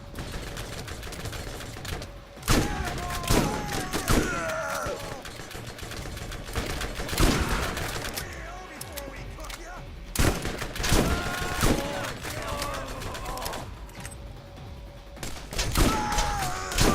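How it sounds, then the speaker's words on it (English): Explosions and gunfire in a Borderlands first-person shooter battle, with several loud broadband blasts and thuds around 2.5, 7 and 10 seconds amid continuous combat noise. "Someone threw a grenade, didn't they?"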